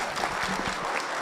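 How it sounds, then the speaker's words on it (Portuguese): Audience applause after a speaker is introduced at a talk, a short burst of dense, steady clapping from a room of people. "Uma salva de palmas."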